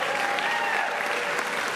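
Audience applause for the supporters of an initiative at a tribute show honoring comedian Gilda Radner, steady and dense clapping throughout, moderately loud with no voices over it.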